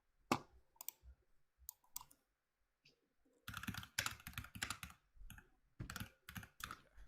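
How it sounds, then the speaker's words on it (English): Fingers type on a computer keyboard up close in irregular bursts of crisp key clicks, with short pauses between flurries and no voices. "If you hear me typing, by the way, I'm just getting up sources as well."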